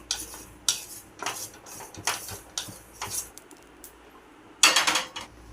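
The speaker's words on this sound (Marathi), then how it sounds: "आता पुढचा आयटम आहे खसखस. आता हे पण भाजून घेऊयात." Poppy seeds (khaskhas) dry roasting in a pan for a masala blend, stirred with a metal spoon that scrapes and clinks in repeated bursts, with one louder clatter near the end.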